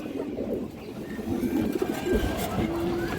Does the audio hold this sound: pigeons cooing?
yes